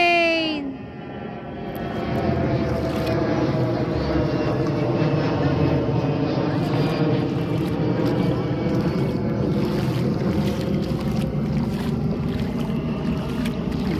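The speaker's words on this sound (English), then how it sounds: "Airplane!" Airplane engine drone, loud and steady, rising in the first seconds and then holding as a broad continuous roar beside a pool during a blackout in Bohol.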